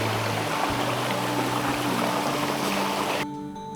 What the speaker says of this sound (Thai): นี่เป็นลำธารนะครับ